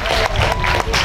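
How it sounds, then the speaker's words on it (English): An audience at a cosplay costume contest bursts into loud, dense applause, a continuous close wash of clapping with a few louder surges. "Come on guys, give an applause!"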